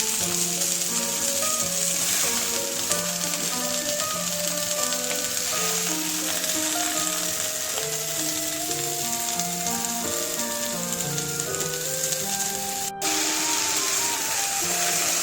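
Chopped bottle gourd leaves and brinjal fry in a pan in a homestyle kitchen, a steady close sizzle running throughout with a soft tonal melody playing over it.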